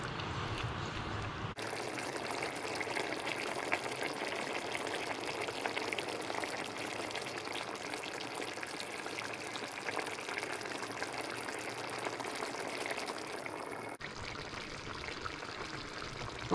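Saffron chicken bubbles uncovered in a pan over medium heat, a steady close hiss and sputter of simmering liquid that holds evenly with no talk.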